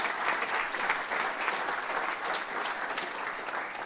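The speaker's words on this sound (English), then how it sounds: "Big round of applause." A live audience applauds after a business pitch at a small-business pitch event, a steady, dense wash of clapping from many hands with no voices over it.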